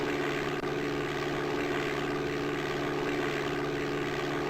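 Simulated aircraft engine held at full throttle in the DOS game Flight Simulator 5.1, a steady droning propeller hum that stays constant and fairly quiet with no voices.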